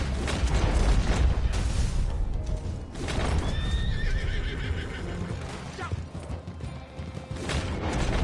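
A horse in the Red Dead Online video game gives a loud, shrill whinny with rising and falling pitch. Clip-clop hoofbeats and dense game noise run steadily underneath throughout.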